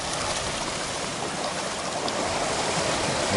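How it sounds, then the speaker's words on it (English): Ocean waves surge into a narrow rocky channel on the West Coast Trail at Nitinat Narrows, a steady broadband wash of churning water close by that swells slightly toward the end, with no voices. "when the waves come in, this fills up real good here"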